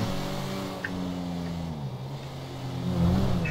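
Tuned-up car driving in GTA 5 Online, the engine holding a steady hum with gear-like pitch shifts and rising revs toward the end, heard alone.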